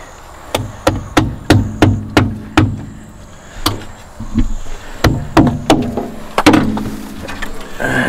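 A series of sharp, hard knocks from a small hammer on a rusty old semi truck, struck in quick rhythmic runs with short pauses, close and loud.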